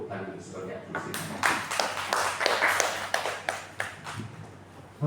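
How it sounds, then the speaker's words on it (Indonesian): Audience in a seminar-style forum on investment and industrial downstreaming claps in appreciation, with uneven, separate hand claps building into a loose patter that thins out again, with voices murmuring underneath. "Saya pikir boleh kita tepuk tangan sebagai apresiasi."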